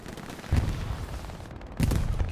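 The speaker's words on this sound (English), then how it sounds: "Oh no, there's Allied artillery. Okay, Allied artillery's coming up." Allied artillery fire in the WWII video game Hell Let Loose on Utah Beach: two heavy, booming impacts about two seconds apart, each rumbling over a dense battlefield background.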